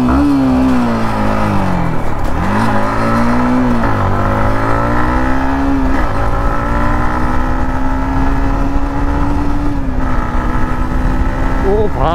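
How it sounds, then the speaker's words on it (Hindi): A Yamaha MT-15 motorcycle engine revs up and down repeatedly, its exhaust note rising and falling loud and close, with a voice faintly underneath. "तो इसके एग्जॉस्ट नोट सुनो,"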